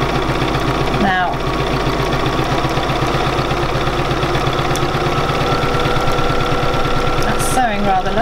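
A Bernina 475QE sewing machine doing free machine embroidery runs with a steady, smooth, rapid stitching rhythm, loud and close, nearly continuous with brief pauses.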